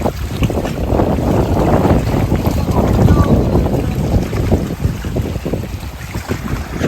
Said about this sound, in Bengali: প্রচণ্ড হাওয়া হচ্ছে, তার সাথে প্রচণ্ড ঢেউ